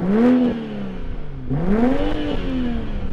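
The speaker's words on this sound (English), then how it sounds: "So what does this modern turbocharged engine sound like? I'm going to rev it up." A BMW M440i turbocharged engine revs up twice toward the red line, rising sharply in pitch and then dropping back, loud and close, with no talking.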